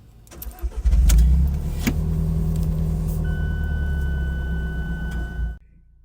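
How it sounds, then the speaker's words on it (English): 2017 Alfa Romeo 4C Spider starting up warm: a short cranking, then the engine catches with a loud flare and settles into a steady close idle before cutting off abruptly. "So nice easy start."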